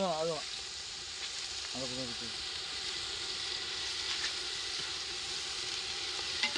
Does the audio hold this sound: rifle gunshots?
no